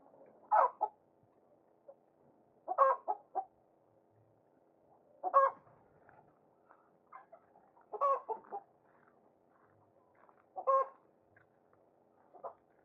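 Free-range village chickens cluck in short, scattered bursts, about six, spaced a couple of seconds apart, in the evening near their coop. Faint and fairly distant against a quiet background.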